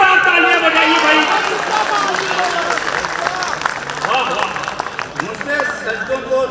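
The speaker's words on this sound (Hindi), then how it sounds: "एक बार जोरदार तालियां बजाइए भाई" Enthusiastic audience applause at a Hindi-Urdu mushaira and kavi sammelan poetry gathering, a sustained burst of many hands clapping that fades a little over several seconds, with a voice talking over it.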